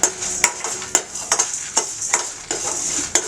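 Whole spices and a lump of asafoetida dry roasting in a kadai, stirred with a spatula that scrapes and clinks against the pan in sharp strokes at irregular intervals over a soft, steady hiss.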